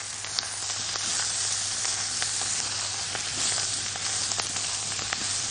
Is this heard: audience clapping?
no